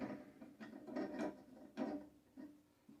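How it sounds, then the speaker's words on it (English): A bike crank bolt being tightened on a used bicycle stripped for parts gives a few close, scraping mechanical bursts with ratchet-like grinding, spaced irregularly and heard alone. "Always snug this bolt down"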